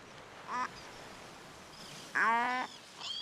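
Relic gulls in a breeding colony give short, nasal, quacking calls, a brief one followed by a longer, louder call and a faint third, over a quiet background.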